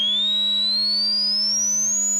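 A Behringer mini synthesizer holds a steady low sine tone, with a thin high whistle slowly gliding upward above it, clean and continuous without any voices.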